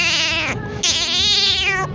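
A man mimics a cat with two drawn-out, wavering meows, the first rising and falling, the second longer and slightly higher, both close and clear with no other sound.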